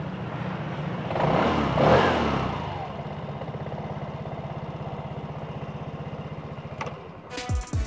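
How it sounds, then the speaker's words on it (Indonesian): A 2020 Vespa Sprint CVT automatic scooter with a quiet exhaust idles with a low, even putter, rises in a short throttle rev, settles back to idle, then gives a couple of quick blips at the end. "knalpotnya senyap. Coba kita gas dikit-dikit. Suaranya senyap, enak."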